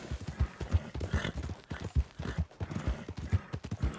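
A horse gallops at full speed in Red Dead Redemption 2, its hoofbeats landing in a steady, rolling rhythm that stays close and even throughout.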